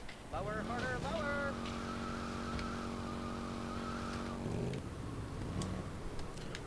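A motorcycle engine in a modded GTA Vice City game revs upward, then holds a steady, loud drone for several seconds before cutting off, with fainter game sounds afterward.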